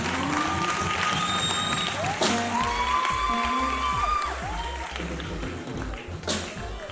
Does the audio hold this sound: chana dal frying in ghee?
no